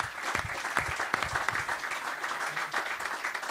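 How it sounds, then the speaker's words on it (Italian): Applause from a live evening broadcast at the Perugia Calcio museum, held to talk about the Perugia dei Miracoli side. A steady, fairly soft round of clapping from a small audience continues throughout. "Un grande applauso dal Museo del Perugia Calcio"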